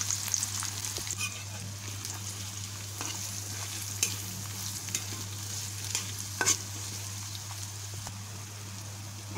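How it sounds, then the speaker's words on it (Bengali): Chopped onion sizzles in hot oil for broiler chicken, a steady bright hiss with scattered light crackles and a low background hum, moderately loud and with no voices. "তেল গরম হওয়ার পর আমি পেঁয়াজ কুচি দিয়ে দিলাম।"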